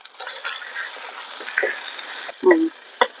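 A spoon scrapes and clatters in a pan as chopped tomatoes are stirred into frying potato, capsicum and pea curry with ginger-garlic paste, giving a faint sizzle with a few sharp metallic knocks near the end.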